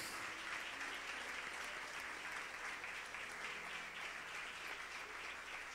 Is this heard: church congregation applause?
yes